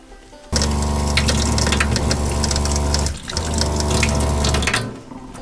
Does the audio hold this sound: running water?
yes